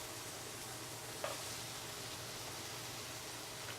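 Mushrooms and peppers with beef sizzle steadily on a hot griddle for a Philly cheesesteak, a constant broadband hiss with a brief clatter as something is stirred or dropped in, no voices.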